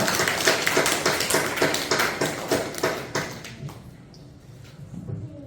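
A church congregation claps together in praise during a Sunday worship service, a dense, loud run of rhythmic claps that thins out and fades toward the end, with no voices over it.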